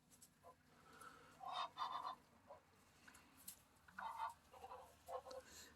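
Several geese honk in short bursts across a farmyard near water, a couple of loud clustered calls standing out over a low background murmur at moderate distance; a person murmurs faintly in the mix.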